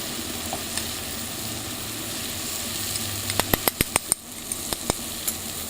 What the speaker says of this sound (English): Give it a quick mix. I'm gonna let it cook through for about 2-3 minutes.